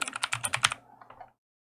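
Rapid keystrokes on a computer keyboard while a search term is entered, a quick burst of close, crisp clicks that slows to a few lighter taps and then stops.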